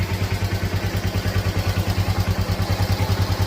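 A 2006 Bajaj Pulsar motorcycle running on E20 petrol idles close by with an even, rapid thumping beat that holds steady throughout.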